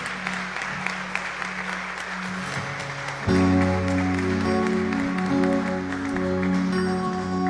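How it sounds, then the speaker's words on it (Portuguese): A church congregation at a family worship service bursts into sustained clapping, at first alone and then joined by loud held organ or keyboard chords partway through, the applause continuing steadily beneath the music. "Aplauda ao Senhor"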